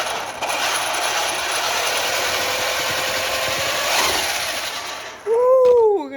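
A Traxxas Rustler RC car with a new center differential holds a steady, loud electric motor whine and mechanical buzz, which surges slightly before cutting off and then rising again in pitch in a short, close rev.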